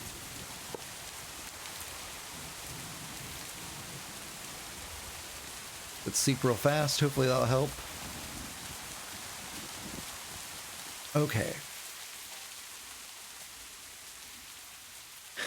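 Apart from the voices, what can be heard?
rain in a video game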